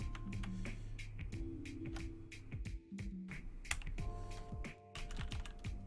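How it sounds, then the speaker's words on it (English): Clattery typing on a Vortex Pok3r mechanical keyboard fitted with Tai-Hao Sunshine PBT keycaps: quick, irregular keystrokes close up over a low electrical hum, with brief pauses between flurries. "I totally forgot how to do reactive typing on this thing."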